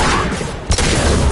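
Dense gunfire in the video game Mass Effect 2, a loud, continuous fusillade with one heavier blast partway through and no talk.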